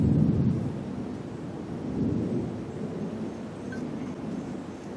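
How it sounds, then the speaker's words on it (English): Low rolling thunder from a storm closing in on a Florida exotic game ranch, a steady deep rumble that swells twice with no voices over it. "Have to beat this thunder and lightning."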